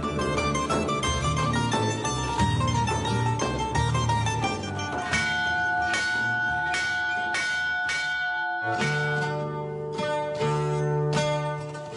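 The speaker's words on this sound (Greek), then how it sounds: "Η καμπάνα καλεί τον άνθρωπο να έρθει μέσα στο χώρο του Θεού." A church bell rings out in a Greek church setting, a run of clear, resonant metallic strikes whose overlapping tones hang and decay between hits, with no voices over them.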